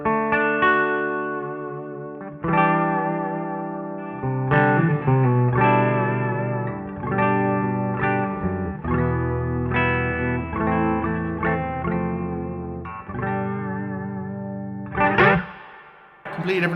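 Fender Jazzmaster electric guitar played through effects, sustained chords and melodic notes ringing loud and continuous, alone without any voice.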